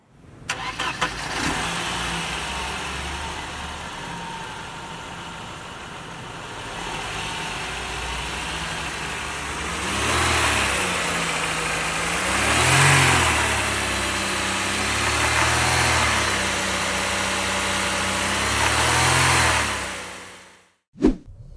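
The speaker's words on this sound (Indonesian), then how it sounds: "Kita coba nyalain mesinnya, men." A 1987 Mercedes-Benz W124 200 with an M102 petrol four-cylinder starts and settles into a steady idle, then revs up several times in rising and falling swells before shutting off, heard close with no talking.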